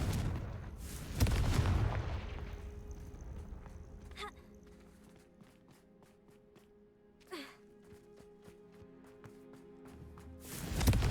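The Confringo blasting spell in Hogwarts Legacy fires off as a booming explosion, followed by quieter thuds, footsteps and cracks, then another loud burst at the end.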